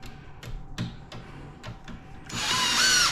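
A power drill drives screws into a wooden Mainstays porch rocking chair during assembly, with several short bursts and clicks, then a louder, sustained whirring run near the end.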